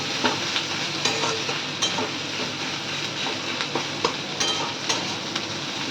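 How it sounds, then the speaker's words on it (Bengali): Crushed garam masala frying with onions in a pan for mutton curry, a steady close sizzle with regular scrapes and clinks of a spoon stirring against the metal. "গরম মশলাটা ভাজা হবে।"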